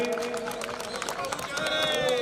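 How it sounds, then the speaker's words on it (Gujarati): Ceremony audience applauding a degree conferral, a steady, close wash of many hands clapping quickly, with a voice ringing out over the clapping throughout. "તો આપણે સૌ તાળીઓથી વધાવીશું"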